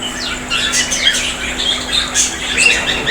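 Caged birds squawking and chirping inside a bird shop in Sathia, Pabna, with sharp, overlapping high calls scattered steadily across the whole stretch at close range and no talking.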